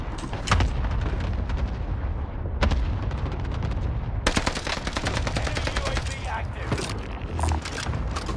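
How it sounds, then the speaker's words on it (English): Airstrike explosions and heavy gunfire in a military shooter video game, dense rumbling blasts and rapid shots running continuously, with a sharp burst of louder impacts partway through and faint voices underneath. "Allied precision airstrike incoming."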